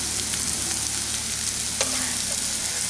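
Chopped onion, green chilli, garlic and ginger sizzle together in a pan, a steady broadband hiss with a few soft stirring scrapes and one sharper clink near the middle, no voices.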